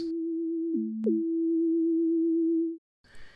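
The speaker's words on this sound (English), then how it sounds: "Here we have our most basic sine wave." A pure basic sine wave preset from a Dynosynth v1.0 synthesizer, a steady clean tone that drops briefly to a lower pitch, jumps back up, then holds until it cuts off into silence.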